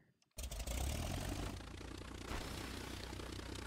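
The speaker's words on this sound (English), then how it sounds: "start the engine, start the engine" A vehicle engine starts up in the sandbox video game Garry's Mod, a loud sudden burst that settles into a steady, continuous running rumble.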